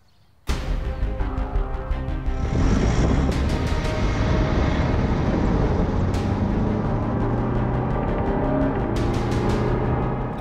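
An Alfa Romeo Giulia Veloce running at about 135 km/h on a test track with run-flat tyres, a sudden loud onset into a sustained roaring engine and road noise that holds steady throughout.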